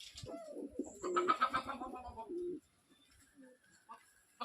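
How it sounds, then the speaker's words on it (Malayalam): Pigeons coo in a cluster of rolling calls, with a human voice close by, then fall to near silence before a faint final call. "വെറൈറ്റി പ്രാവുകളുണ്ട്."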